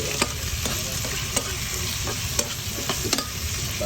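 Filipino adobo fries and gets stirred in a pan, a constant crackling sizzle with sharp clicks and scrapes from the utensil recurring every second or so, close and clear.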